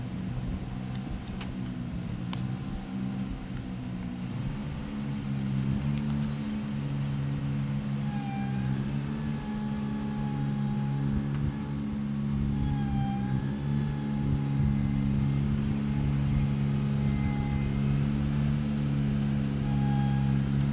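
A Ventrac 45RC remote-controlled tractor runs with a steady low engine drone and a faint whine rising and falling as it drives, moderately quiet and without talk.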